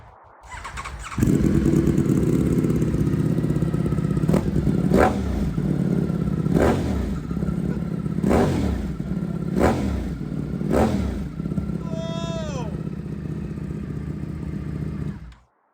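A Ducati motorcycle with an aftermarket eBay exhaust idles with a loud, throaty rumble, blipped into several sharp revs at roughly even intervals, close by, ending with a brief squeal.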